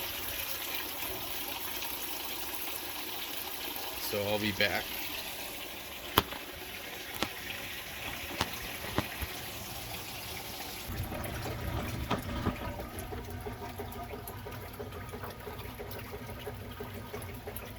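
Water runs steadily into the tub of a 2003 Whirlpool Gold Ultimate Care II direct drive washer during a cleaning cycle, a continuous rushing fill that shifts deeper partway through, with a brief spoken line and a few clicks over it.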